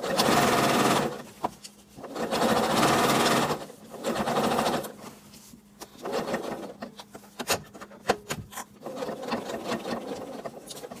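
Sewing machine stitching a denim jeans hem, loud bursts of rapid stitching in several runs separated by short pauses with light handling noises.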